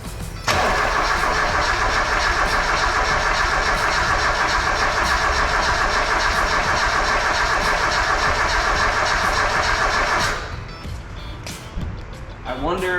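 A Mazda Miata engine cranks briefly, then catches and runs loud and steady at a rough idle for about ten seconds before cutting out.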